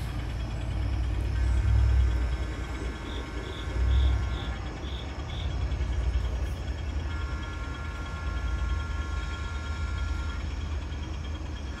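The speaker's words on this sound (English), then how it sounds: "So now we're pushing the train back to pick up the caboose." An outdoor garden railroad train backs up to couple with its caboose, giving a steady low mechanical rumble with a faint whine on top. The sound stays even throughout and has no talk.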